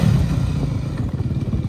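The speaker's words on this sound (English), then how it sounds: "now he says he wants to pop some more wheelies on it" A dirt bike engine drones and revs steadily up close during wheelie riding, a continuous buzzing rumble with slight pulsing and no talk.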